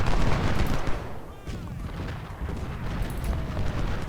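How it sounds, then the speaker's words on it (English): In the Civil War strategy game Ultimate General: Civil War, 20-pounder Parrott guns and massed musketry fire as a dense, continuous rumble of overlapping booms and crackling shots, loud and unbroken throughout. "I'm going to refocus our 20-pounder Parrott guns"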